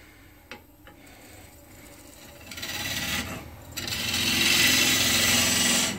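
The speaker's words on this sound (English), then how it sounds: "when the tool is this way, it makes better cut. When it's this way, it scrapes." Turning tool cutting a natural-edge piece of laburnum wood on a lathe gives a steady rasping, scraping hiss that swells louder partway through and stays strong to the end, with no talking.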